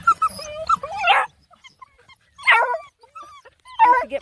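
Black and tan hound puppies yip and whimper in short, high bursts, with a pause of near silence between clusters of noisy, overlapping cries close by.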